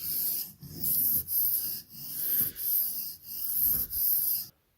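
A knife edge being sharpened on a stone down to the apex of the bevel, heard as a series of about six steady rasping strokes with short pauses between, close and fairly loud.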